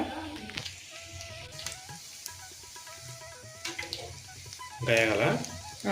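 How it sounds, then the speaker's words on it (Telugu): Food fries in a pan with a soft steady sizzle, mostly beneath a person talking, with a louder burst of bubbling near the end. "ఏం అతుక్కోకుండా నీట్గా ఫ్రై అవుతున్నాయి అన్నమాట"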